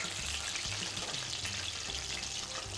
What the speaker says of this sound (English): So there you have it, shallow fried, freshly shucked Australian oysters.